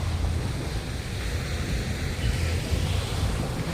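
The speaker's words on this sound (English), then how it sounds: "We're right on the beach, just a few steps." Surf washes onto Alona Beach on Panglao Island, Bohol, a steady close wash of breaking waves mixed with wind rumble against the microphone, with no talking.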